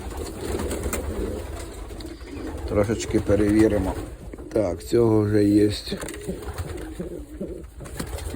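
Breeding pigeons coo in a low, throaty, repeated pattern close by, with short bursts standing out midway through while someone speaks Ukrainian over and between them.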